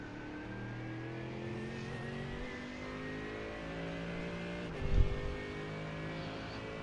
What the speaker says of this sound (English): We are in the Merc GT3, as you can hear.